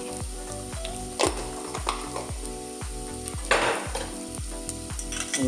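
Ground spices, chilli and coriander, frying on an induction cooker while a spoon stirs the pan. There is a loud, close sizzle with rhythmic scraping strokes and occasional louder bursts of spattering.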